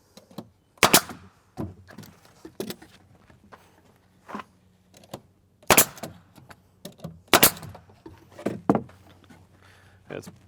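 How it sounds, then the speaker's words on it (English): A finish nail gun fires nails into wood while trim is fitted on a chicken coop build, sharp percussive snaps arriving irregularly, some in quick pairs, with quieter handling knocks between them. "I'm just going to secure these just using a finished nail gun."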